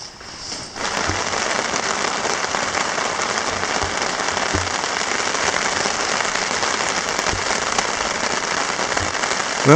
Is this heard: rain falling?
yes